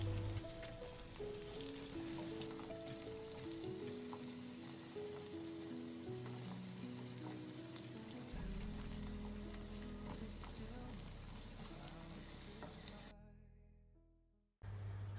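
Chicken pieces frying in a pan for zurbian biryani, giving a steady, close sizzling crackle throughout that cuts off abruptly near the end, with background music running underneath.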